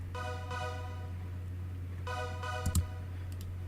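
Soft synth tones from the Expand 2 plugin on its Super Smooth preset, two gentle chord swells over a steady low hum, with a couple of brief clicks near the end.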